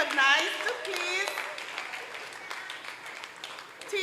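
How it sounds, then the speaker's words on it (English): Graduation audience at a primary school ceremony applauding the teachers, a soft steady patter of clapping through the room with a voice talking over the start. "I would like you as well to applaud our teachers"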